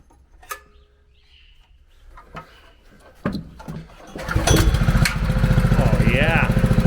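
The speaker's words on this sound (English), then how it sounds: "See if this pump fires up." A small engine-driven pump on a farm cranks and catches after a few earlier clunks, then runs steadily with a loud, even, rapid chugging to the end, birds faint behind it.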